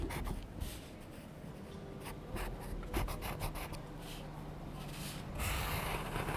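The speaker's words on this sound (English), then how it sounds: "I'm measuring out the size of the buildings using a water-soluble colored pencil." Water-soluble colored pencil drawing on primed paper, heard as quiet, close scratchy strokes and rubbing in irregular bursts as building sizes are measured out.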